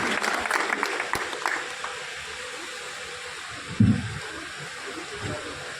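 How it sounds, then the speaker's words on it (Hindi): Scattered audience clapping at a poet's birth anniversary commemoration fades out within a couple of seconds, leaving a hissy room background and a brief low thump. "सदैव एक बार जोरदार तालियां बजाएं हमारे स्वागत और सम्मान तो देवे"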